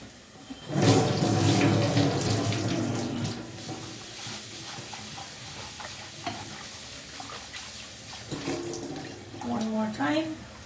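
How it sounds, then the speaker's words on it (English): Rice being washed by hand in a bowl under a running kitchen tap for a chicken biryani, with a steady wash of flowing water and swishing stirring of grains, loud at first and then quieter, while someone talks over it. "I'm going to go on number 5 of washing the rice"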